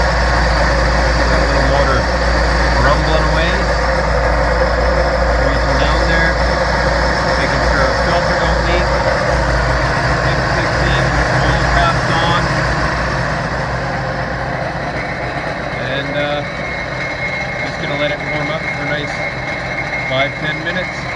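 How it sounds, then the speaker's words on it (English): Sea-Doo RXP 260 jet ski engine idling in a steady low rumble, close and continuous, with a voice talking over it. "Got a little motor rumbling away."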